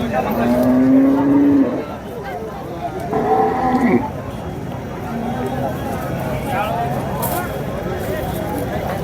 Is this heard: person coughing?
no